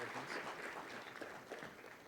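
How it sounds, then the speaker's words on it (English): Faint applause from an audience at an event finale, a short stretch of dense clapping heard from a distance. "Can we have a round of applause for Madan Padki"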